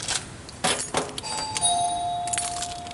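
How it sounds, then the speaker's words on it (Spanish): An electric doorbell at a house entrance gives a few clicks, then a sustained electronic ringing tone that holds for over a second and stops, heard close with no voices. "el timbre con su tapa algo amarilla,"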